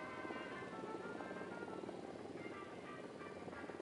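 A helicopter in a video game gives off a steady, faint rotor and engine drone that holds unchanged throughout.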